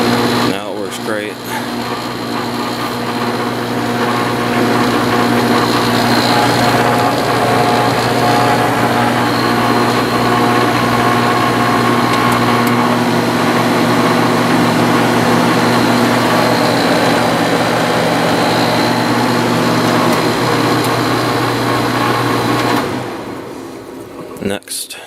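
A repaired window air conditioner with a new fan motor and new bearings runs with a steady, loud whir and hum for about 23 seconds, then cuts off near the end.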